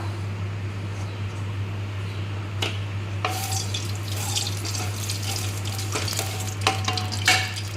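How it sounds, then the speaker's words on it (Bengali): Boiled soybean chunks fry lightly in white oil in a frying pan, a steady close sizzle with intermittent scraping stirs and bursts of louder crackle, over a constant low electrical hum. "সোয়াবিনটাকে ভেজে নেব প্রথমে হালকা"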